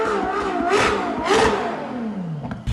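A Ferrari SF90 hybrid supercar engine revs hard twice in quick succession, then settles into a falling whine; loud and close, with no talking.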